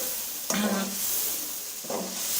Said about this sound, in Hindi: ये गोश्त और अच्छे तरीके से फ्राई करेंगे